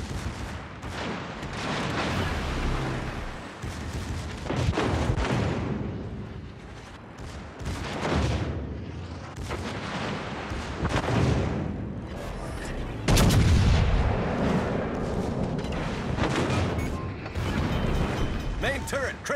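Heavy naval guns fire repeatedly at a designated target during a naval video game battle, with loud booming blasts and rumbling impacts coming in irregular bursts. Radio-style voices speak over much of the barrage.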